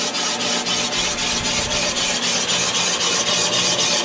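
A Van Norman 777 boring machine cuts a worn Ford Model A four-cylinder bore, giving a loud, continuous rasping grind with a regular rhythmic pulse as the cutter rotates, close and alone.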